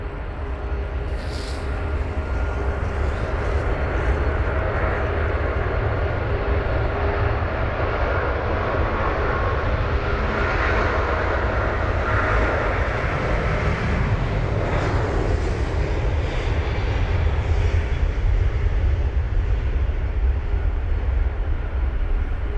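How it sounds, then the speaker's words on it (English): An American Airlines Boeing 777-200ER roars down a wet Heathrow runway on departure, a very loud, sustained deep engine rumble that swells steadily with rushing spray noise over the full length. "We've got the American 777 now on the runway. That's the 200 ER heading to Phoenix."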